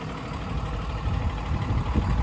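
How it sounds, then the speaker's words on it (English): A Cummins diesel engine in a 2013 Freightliner M2 22-foot box truck idling, a steady low rumble with an even throb, close and continuous with no talk. "The engine sounds good."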